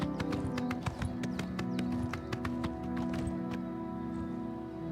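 Steady, rapid hoof clip-clops from a unicorn in Oblivion Remastered, tapping at a brisk even pace over a low droning backdrop, with no talking.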